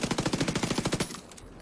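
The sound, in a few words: SMG gunfire in The Division 2 video game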